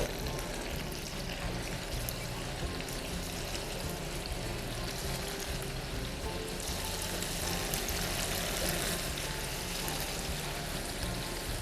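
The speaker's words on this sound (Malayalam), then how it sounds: "പാൻ ചൂടായി കഴിയുമ്പോൾ ഇത് ഫ്രൈ ചെയ്യാൻ ആവശ്യമായുള്ള ഓയിൽ നമുക്ക് ഇതിലേക്ക് ഒഴിക്കാം." Frying oil poured into a heating pan for churros, a continuous dense splashing, streaming rush that holds steady and fairly loud from start to finish.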